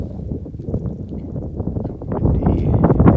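Wind gusting across a cold mountain ridge on a hike toward Mount Langley, a loud, rough rumble buffeting the microphone steadily and building stronger toward the end.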